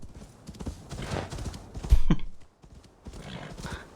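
Horse hooves clip-clop in the Assassin's Creed Valhalla video game, a close rhythmic series of thuds with a short neigh or whinny in the middle, followed by more steady hoofbeats.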